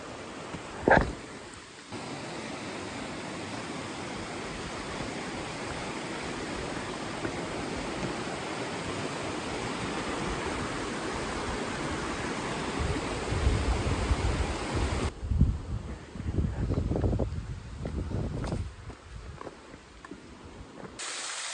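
Waterfall beside the Appalachian Trail in Tennessee, a steady broadband rush of falling water close by for most of the stretch, easing in the final seconds as other faint sounds come through.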